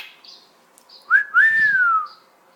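A pet bird whistles a long clear note that rises, then slides slowly down, loud and close after a few faint chirps, with a brief low rustle underneath.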